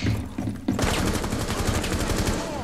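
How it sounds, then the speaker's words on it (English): Dragon's breath shotgun fire in the video game Rainbow Six Siege, a loud, sustained roaring burst of rapid shots after a brief lull, close and dense, with little talk over it. "Oh! They got dragon fire!"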